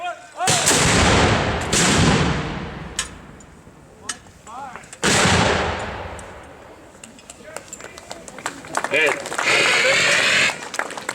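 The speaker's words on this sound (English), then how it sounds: "Battery, as a battery, fire!" Cannon fire from a historical artillery battery at a Jamestown military reenactment: two loud, near booms a few seconds apart, each rolling off into a long rumble, then scattered crackling shots and noise.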